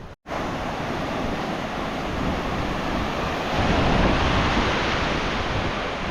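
Surf breaking steadily on the 25 km beach near Agadir, a continuous close wash of sea waves with some wind noise on the microphone, swelling slightly louder toward the end, with no voices.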